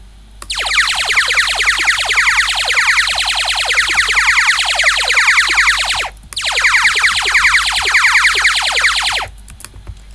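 Repeated laser-like shot sound effects from a Godot wave shooter game, each zap sweeping downward with randomized pitch, firing in rapid bursts of about a second apart across two long runs, loud and alone.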